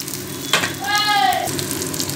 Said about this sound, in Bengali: এবার আমি এতে দিয়ে দেবো আদা রসুন।